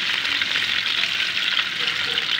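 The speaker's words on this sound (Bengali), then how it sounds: "ডিমগুলোকে সিদ্ধ করে ছিলে হালকা ভেজে নেব" Peeled boiled eggs lightly frying in hot oil make a steady, dense sizzling hiss that holds at an even level throughout, close by and without any voices.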